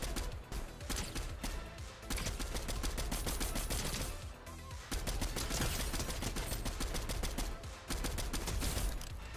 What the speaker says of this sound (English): Some more shots in the distance.